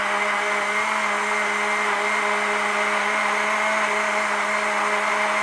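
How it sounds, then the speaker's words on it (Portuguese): A blender mixing milk for piglets runs continuously at a steady, loud whine with a constant motor hum, no voices over it. "Boa, liquidificador."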